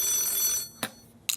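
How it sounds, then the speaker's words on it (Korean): A telephone rings with a bright, high-pitched electronic trill, then two short clicks or chirps follow in a quiet room. "또 갑자기 지금 전화가 오네요."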